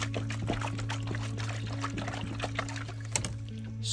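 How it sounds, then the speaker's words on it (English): Water sloshing inside a heavy, unstrapped radon vent pipe filled with water as it is lifted, a continuous close watery swishing with a steady low hum underneath. "I'm gonna try to pick up, and you can hear the sloshing."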